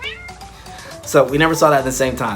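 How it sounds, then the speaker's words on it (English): A pet cat meows several times in quick succession, fairly close, over a person talking in a home setting. "That's my cat meowing."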